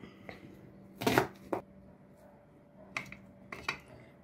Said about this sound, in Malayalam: നമുക്ക് ഈ ഉള്ളി ഒന്ന് ഇതുപോലെ ചെറുതായിട്ട് അരിഞ്ഞെടുക്കാം